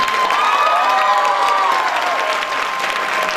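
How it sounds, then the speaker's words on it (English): Loud, sustained audience applause with some cheering for the coordinators at a 2015 ASME student event, clapping dense and continuous throughout with crowd noise mixed in. "So huge round of applause for yourself."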